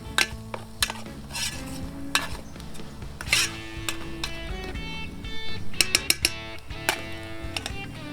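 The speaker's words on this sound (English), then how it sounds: "Going to give that a quick mix. Just cook out the" Spices, chilli and lemon seasoning cooking in a pan for nettle sag aloo and stirred about, giving a soft sizzle with scraping and clinks of the utensil against the pan, under a faint musical backing.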